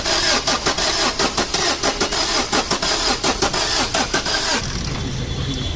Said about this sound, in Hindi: car start